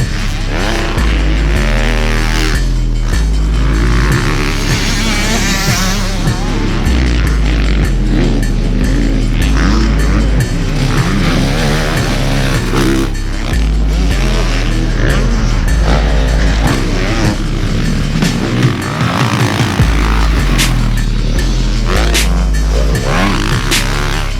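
A 2022 Honda CRF450R Works Edition motocross bike with a full Yoshimura RS-12 exhaust system runs loud and close, its engine revving hard and rising and falling in pitch almost without a break.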